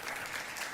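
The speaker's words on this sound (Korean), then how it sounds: "우리 세실리아 집사님 박수로 환영하도록 하겠습니다" A church congregation at Sunday worship applauds to welcome a visiting deacon, a soft, even patter of many hands clapping that sounds distant and faint.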